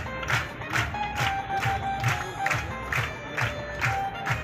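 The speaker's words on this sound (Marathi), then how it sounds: "जोरदार टाळ्या होऊ द्या." A lively outdoor crowd at a sports ground cheers and claps in steady, rhythmic bursts, with a constant hum of many voices and repeated swells of clapping throughout.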